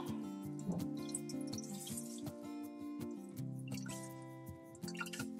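Water dripping and trickling from a squeezed wet cloth diaper insert, a run of small drips and splashes close by over a steady background hum, no talking.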